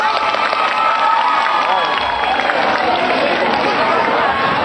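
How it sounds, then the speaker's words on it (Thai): At a Thai community event, an audience applauds and cheers for the Dok Khun Nong Khu team from the Khum Nong Khu community, a dense, loud, continuous wash of clapping and crowd noise. "เสียงปรบมือดังๆให้กับคุ้มน้องคูครับ"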